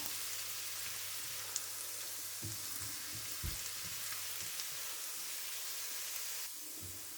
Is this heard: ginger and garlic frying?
yes